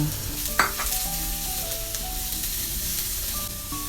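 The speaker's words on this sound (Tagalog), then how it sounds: "igigisa ko muna dito yung bawang, sibuyas, lemongrass, at sinabay ko na nga rin para dito yung sili" Garlic, onion, lemongrass and chili sautéing in hot oil, a steady close sizzle running throughout with a single brief knock near the start and a faint tonal hum underneath.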